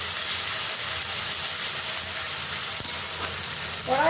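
A ground paste of ginger, onion and garlic fries in a hot wok, giving off a loud, steady sizzle throughout. Near the end a faint rising tone cuts in briefly.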